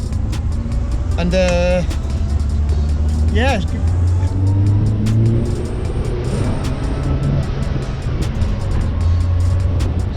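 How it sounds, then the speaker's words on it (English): A Moke with its roof off drives on a cold, wet road, its engine droning and wind rushing throughout, with short whining rev sweeps; a person talks over the noise. "I'm in the Moke, so I'm gonna take it for a drive."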